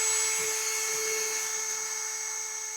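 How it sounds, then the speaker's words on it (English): An electric drill bores a bolt hole into a frame, giving a high, steady whine that slowly fades as it winds down. "So that is the hole I drilled right there"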